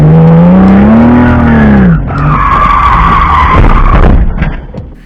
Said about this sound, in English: you guys can hear me let off the gas when I am fully turned to the right side of the curve